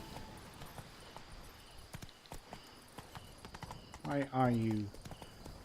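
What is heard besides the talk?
horse Roach's hooves walking in the video game The Witcher 3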